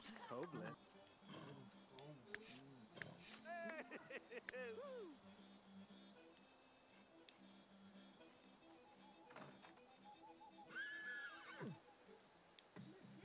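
Horses or unicorns in The Sims 3 neigh and whinny in several quavering calls early on, with another later whinny, set against faint background game sounds and occasional voice.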